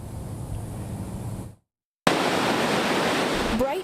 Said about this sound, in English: Bright green algae pouring through the St. Lucie Lock and Dam